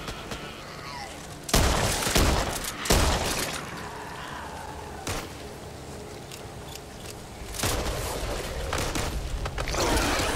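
Sniper rifle fire in the zombie shooter Back 4 Blood: a few loud, sharp booms stand out over a busy, noisy game soundscape, with scattered quieter shots between them.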